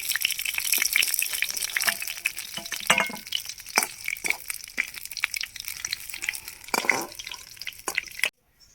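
Fish sizzling as it fries in hot oil over a wood-fired village stove, with steady crackling and bursts of spatter under scraping and handling noises, close by, before falling silent at the end.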